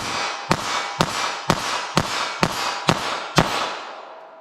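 Eight sharp, loud gunshots from a .32 ACP pocket pistol, evenly spaced about half a second apart, each a crisp crack with a short tail.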